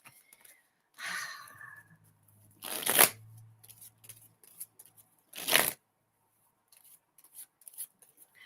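Tarot cards are shuffled in a few short riffling bursts separated by quiet gaps, close and crisp.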